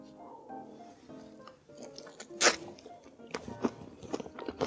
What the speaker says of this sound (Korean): 카다이프 이거 너무 바삭바삭하고요